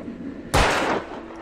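A single sharp gunshot rings out in the video game Alan Wake, a loud sudden crack that trails off into a short echoing tail over quiet ambience.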